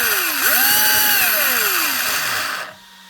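An Arrma Mojave 6s RC car with a failing, smoking motor lets out a loud, close electric whine that swoops up, holds and slides back down before cutting off abruptly, with a rough noisy hum underneath.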